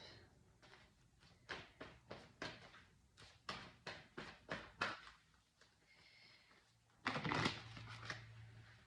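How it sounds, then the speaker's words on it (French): Heart chakra oracle cards are shuffled by hand, a series of quick, close, crisp riffling flicks in a steady rhythm, ending in a louder burst of cards being sorted and squared. "je vais tirer 3 cartes de l'oracle chakra du cœur pour terminer votre tirage"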